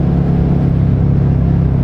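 A Suzuki SV650 V-twin motorcycle engine runs with a loud, close, low throbbing rumble, holding steady without a clear rev rise.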